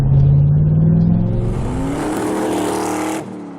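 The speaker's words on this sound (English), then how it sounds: "It came with the Ls6 engine, which is basically a beefed up version of the LS1." A Corvette C5 Z06 with the LS6 5.7-litre V8 revs hard and loud up close, the engine note climbing and holding high before cutting off abruptly near the end, with no voices.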